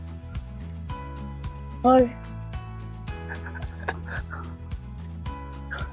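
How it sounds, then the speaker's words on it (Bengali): A single loud fowl-like call rings out briefly over a steady droning hum, with some faint background activity around it. "পাখির আওয়াজ কিন্তু বেশ ভালোই শোনা যাচ্ছে"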